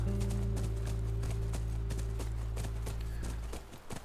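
Horse hooves clip-clop at a steady ride in The Last of Us, a close, rhythmic gait over a low rumble that fades near the end.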